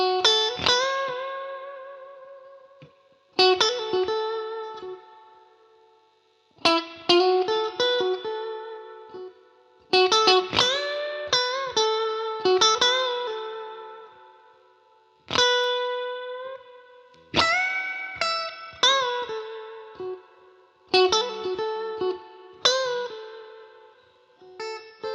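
A clean electric guitar through a Fender Blues Junior amp with reverb plays Peter Green-style phrases: a series of plucked notes and short chord stabs, each ringing out and decaying into a reverb tail, with brief pauses between phrases.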